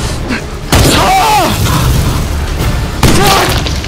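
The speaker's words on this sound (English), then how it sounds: "He shooted at us!" A gunshot fired at the player in the Choo Choo Charles video game, with two heavy booming blasts about two seconds apart over constant loud game noise and shouted talk.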